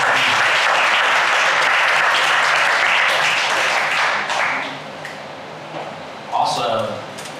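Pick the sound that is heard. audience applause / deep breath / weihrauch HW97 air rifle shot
audience applause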